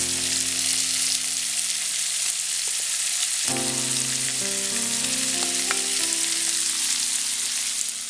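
Chopped banana flower tossed into a hot pan with cooked lentils for a stir-fry, a loud, constant close sizzle, with a low tonal hum appearing partway and occasional stirring scrapes, no voices.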